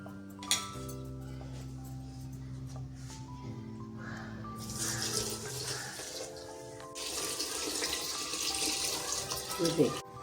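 Water is poured into a pressure cooker holding masoor lentils in a home kitchen, a splashing pour that comes in two runs, mixed with pot clatter and soft background music.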